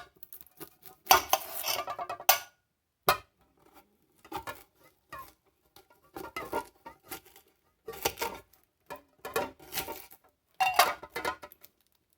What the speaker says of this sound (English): I'll get the onion chopped up real quick